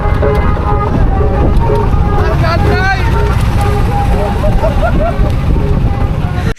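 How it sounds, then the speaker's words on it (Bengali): A luxury houseboat cruising on the Padma river toward the Padma bridge gives a loud, continuous engine drone with wind rushing over the microphone and faint tonal chirps above it, steady throughout. "এর কিছুক্ষণ পরে আমাদের বোট চলে যায় পদ্মা সেতুর কাছাকাছি।"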